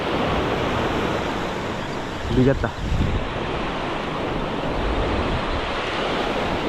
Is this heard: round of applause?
no